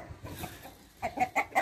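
A Jersey Giant rooster clucks in a series of short, close calls, growing louder and more rapid toward the end, with no one speaking.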